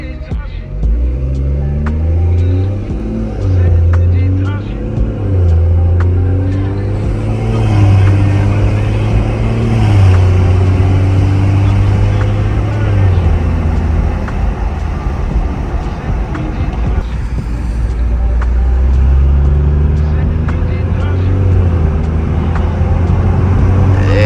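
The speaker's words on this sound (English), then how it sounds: "Turbo spool is crazy, bro." A BMW M240i fitted with a downpipe accelerates hard with its turbo spooling, a loud, continuous engine roar that rises and falls through the gears, recorded close from inside the car.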